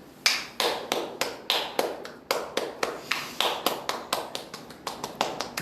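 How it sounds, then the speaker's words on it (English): A small group claps in a steady round of applause for a Star Wars bounty hunter on a podcast, about twenty distinct close hand claps at an even rhythm, with no voices over them. "Round of applause for Cad Bane there."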